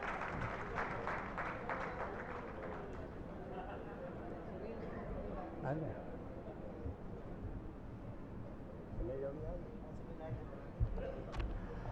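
At a book release ceremony, an audience claps to welcome a guest to the stage. The brisk clapping fills the first few seconds, then fades beneath someone speaking over a microphone.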